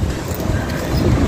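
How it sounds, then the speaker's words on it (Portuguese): Cold wind blowing outdoors, a steady loud rumbling buffet against the microphone with no clear gaps throughout. "Olha o vento."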